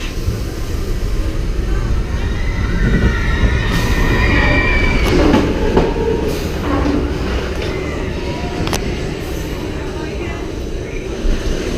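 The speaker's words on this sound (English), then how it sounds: "There goes the train." A train on the Expedition Everest ride at a theme park rumbles past with a steady, loud roar and rail noise, with some wheel squeal and people talking over it.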